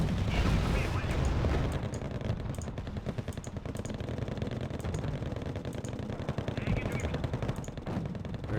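Rapid, sustained gunfire rattles through a Wargame: Red Dragon battle, with a dense stream of automatic shots and heavier thumps from 130 mm artillery mixed in, loud and continuous, with a voice talking over it.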